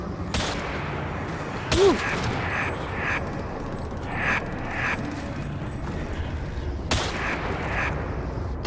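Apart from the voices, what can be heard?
Death Machine gun firing in Black Ops 3 video game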